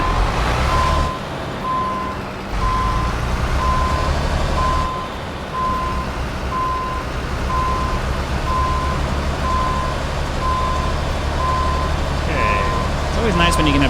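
Steady reversing beeps from a Volvo FH Classic truck in Euro Truck Simulator 2, evenly spaced pulses repeating throughout over a constant engine rumble, with someone talking over them.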